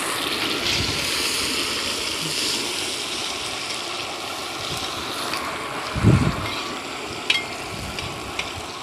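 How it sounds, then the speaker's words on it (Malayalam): Seer fish curry with curry leaves is stirred in a pan, giving a steady close sizzle with soft scraping and one louder clatter midway. "ഇനി നന്നായിട്ട് ഇളക്കിക്കോ രണ്ട് വേപ്പലൊക്കെ ഇടക്കട്ടെ"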